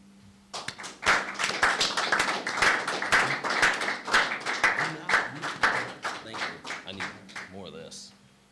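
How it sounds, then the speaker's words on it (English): Applause from the audience at a wrestling press conference, scattered claps swelling into a steady round of close, sharp clapping for several seconds before thinning out at the end. "I want us all to give a round of applause"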